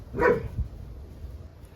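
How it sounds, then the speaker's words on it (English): A German Shepherd gives a single short bark indoors, a brief moderately loud woof followed by quiet room tone. "I have a German Shepherd, but she is the"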